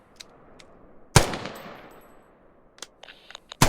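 Sharp bursts of machine gun fire in the video game Squad, a loud blast followed by a decaying tail, then scattered quieter shots and a final loud burst, no talking.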